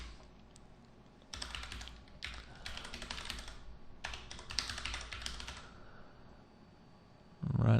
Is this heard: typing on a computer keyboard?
yes